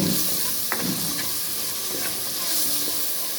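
Curry leaves drop into hot oil with softened tomato in a pan for prawn curry, producing a loud, continuous close sizzle and hiss with a few faint stirring scrapes.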